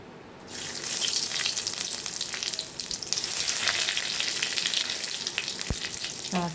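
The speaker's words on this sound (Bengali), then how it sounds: "একটা শুকনো লঙ্কা একটা তেজপাতা আর আছে পাঁচ ফোড়ন এই দিয়ে ফোড়নে দিলাম দেখো" Dried chilli, bay leaf and five-spice seeds temper in hot oil with a loud, steady, close sizzle that flares up at once and holds, with a single utensil tap near the end.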